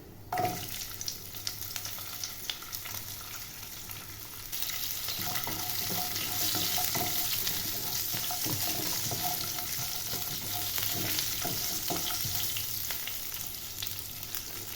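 Six or seven small onions sizzling in coconut oil with cinnamon, cloves, pepper and fennel for a Kerala chickpea curry, a steady crackling fry with occasional stirring scrapes that grows louder partway through, no voice.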